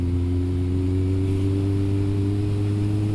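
A 2008 Kawasaki Z1000 motorcycle engine runs steadily close by, a loud continuous low hum with strong harmonics and little change in pitch, heard alone without voices.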